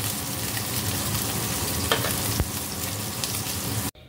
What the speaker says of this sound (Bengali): এখানে আমি মাছগুলো আগে ভেজে নেব